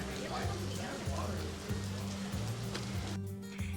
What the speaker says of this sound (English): It started pouring rain.